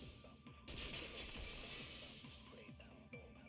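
A vase breaking in the Danganronpa 2: Goodbye Despair video game, a sudden loud crash and shatter of ceramic that spills into a dense, sustained burst of scattering fragments lasting several seconds, with no talking.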